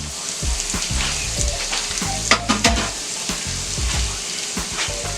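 Onion frying in butter on a flat griddle, a loud, close, continuous sizzle with scraping and shuffling as it is moved around, plus a couple of sharper clatters midway.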